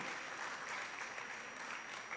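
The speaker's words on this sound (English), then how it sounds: "A big round of applause for this visionary madam." Audience applause for a woman honoured as an organization's founder, a faint, even wash of clapping heard from a distance with no voices over it.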